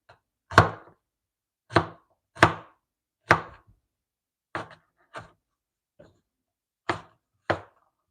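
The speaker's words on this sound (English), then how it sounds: "Just slicing some onion now." Knife slicing onion on a board, about nine separate crisp thuds and cuts at uneven intervals, close and clear against silence.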